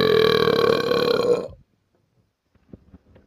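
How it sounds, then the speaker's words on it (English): A loud, drawn-out burp with a rich harmonic rasp lasts about a second and a half, then cuts to near silence with a few faint small sounds at the end. "don't burp loud on me like that"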